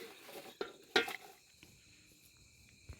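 Tender sorghum (hurda) roasting in a metal pan, stirred with a few sharp metallic scrapes and clinks early on, then quiet faint crackling.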